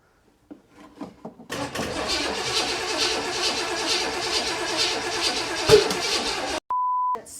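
A 1979 Corvette crate motor cranks briefly, then catches and runs rough under full throttle, with a sharp backfire near the end, followed by a steady electronic beep. The car has a dying battery and off timing.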